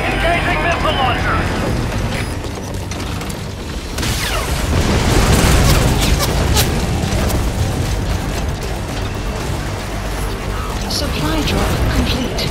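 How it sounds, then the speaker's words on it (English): Missile launcher fire and explosions in Metal Gear Solid V: The Phantom Pain, loud rumbling blasts and booming detonations that swell midway, with mechanical clatter and game voices over the top. "Engaging missile launcher!"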